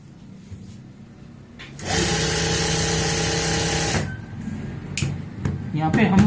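A sewing machine stitches lining into palazzo pants in one loud, steady two-second run, with quieter handling noises of cloth before and after.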